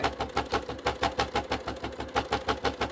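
Sewing machine with a worn, noisy needle stitching binding onto a bag, running in a fast, steady rhythm of sharp repeated punches with a clattering mechanical tone throughout.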